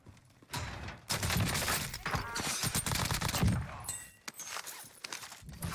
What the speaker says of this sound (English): Nail gun is disgusting.